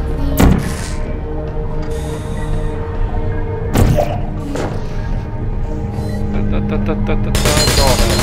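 Turret gunfire in the video game Portal 2: loud, sharp bursts of shots, with isolated cracks early on and a rapid rattling volley near the end, over continuous game sound and a talking player.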